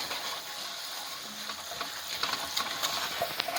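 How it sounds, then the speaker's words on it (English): Tomato paste being stirred into a simmering bolognese sauce with a spatula, a soft, steady sizzle with light scraping and a few sharper clicks toward the end, with no voices. "Once that's done, we're going to mix this up thoroughly."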